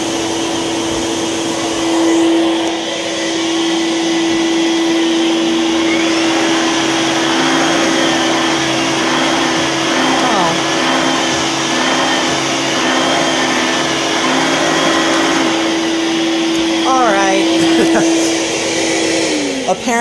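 An Electrolux vacuum cleaner, its head flat on the floor in an airflow test, runs loud and steady with a constant motor whine and rushing air that holds for the whole stretch, shifting pitch briefly near the end.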